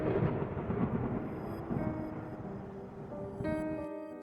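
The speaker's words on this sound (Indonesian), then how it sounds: "Suara petir kembali terdengar." Thunder rumbling during a night storm, a broad low roar that rolls steadily and slowly fades over several seconds, with faint high tonal music lingering above it and no voices.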